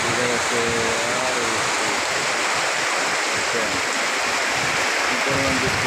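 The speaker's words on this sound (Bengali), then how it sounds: "কি পরিমাণ বৃষ্টি হচ্ছে" Heavy rain pours down in a dense, steady roar like rushing water, loud and unbroken, with a voice briefly audible beneath it.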